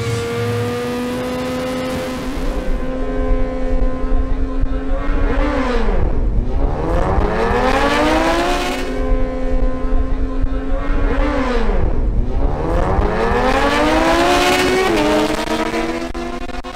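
A Suzuki GSX-R1000 motorcycle screams through a drag racing run, the engine note rising sharply through several quick gear changes, each shift marked by a brief drop before climbing again, loud and sustained.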